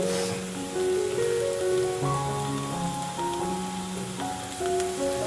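Onion shallow frying in a pot for a chicken thali, a steady dense crackling sizzle with no pauses, close and fairly loud, under music.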